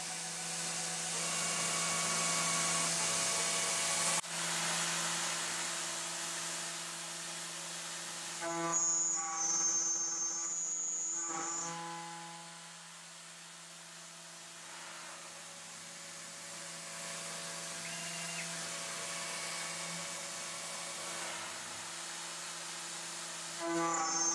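CNC milling with a 3/8 carbide two-flute end mill at 10,000 RPM and about 64 inches per minute feed, a steady high-pitched spindle whine with shifting cutting tones, continuous and fairly close, with no speech.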